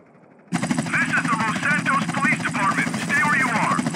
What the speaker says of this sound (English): CJ, jump on that helicopter!